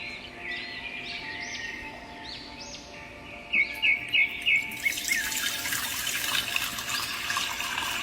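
Water is poured into milk in a cartoon village scene: a steady splashing pour rises in the second half, with birds chirping and tweeting throughout.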